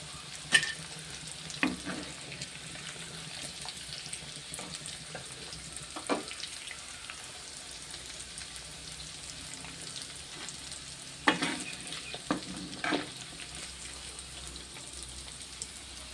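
Chicken pieces fry in hot oil as they crisp up, giving a steady, quiet sizzle with occasional sharper pops and crackles.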